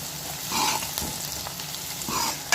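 Onion and garlic sautéing in a pan for fish curry, a soft, quiet sizzle with short bursts of stirring scrapes.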